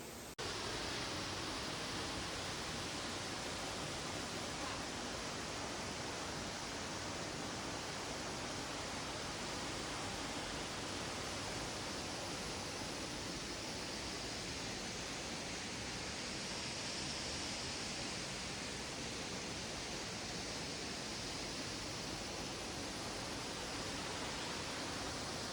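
Meenmutti forest waterfall roars continuously, a steady broadband rush of falling water with no letup and no voices, heard evenly throughout.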